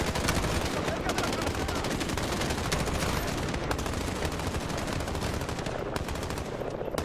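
Sustained, loud automatic gunfire from the video game Call of Duty Modern Warfare, dense overlapping bursts rattling continuously for the whole stretch with no pause.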